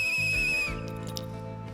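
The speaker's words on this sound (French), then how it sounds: "Bon sang, j'en peux plus des sifflets." A shrill, steady whistle sounds in the video game Bloomtown: A Different Story. It holds for most of a second over game music, then cuts off while the music carries on.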